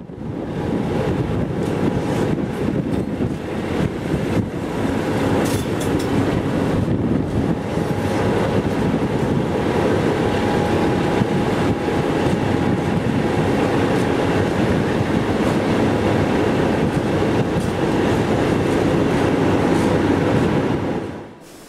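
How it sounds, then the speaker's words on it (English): A CityRail Endeavour diesel railcar set pulling into Sydney Central Station, a loud continuous rumble and rattle of wheels on track with wind buffeting the microphone, steady throughout before cutting off at the end. "a City Rail Endeavour car set is now seen coming into Sydney Central Station"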